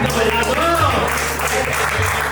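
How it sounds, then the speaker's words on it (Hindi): Applause at a wedding mehendi event runs as a continuous patter of clapping throughout, with a voice speaking over it and other voices mixed in. "अरे ताली तो बजा दो।"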